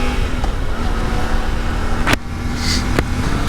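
Yamaha Tenere World Raid motorcycle being ridden, a steady engine drone with a constant low tone and wind rush, broken by a couple of sharp clicks, with no talking.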